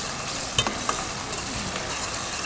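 Steady sizzling of ginger garlic paste frying in a pan on a gas stove, with a few soft stirring clicks.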